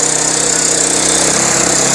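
Mini tractor engine at a farm fair in Ludhiana, running under load as it is tested: a loud, continuous, rough mechanical drone that holds steady throughout with no pauses.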